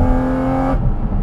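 Porsche GT4 RS with its airbox howling under hard acceleration, a loud close high-revving engine note that cuts off sharply near the end, with no talk.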